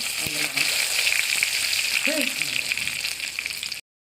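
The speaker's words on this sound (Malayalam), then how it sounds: "കടുക് പൊട്ടി വന്നു അപ്പം നമുക്ക് കുറച്ച് ജീരകം ഇട്ട് കൊടുക്കാം" Mustard seeds and cumin sizzle loudly and continuously in hot oil for a Tamil Nadu–style fish curry, a dense, close frying hiss with faint popping and a brief stir midway.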